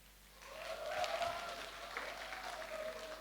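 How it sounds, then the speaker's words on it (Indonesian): Applause from a forestry student audience at a briefing, a moderate wash of clapping that swells and then holds steady, heard from a little distance in a hall with a low hum. "Aplaus dulu."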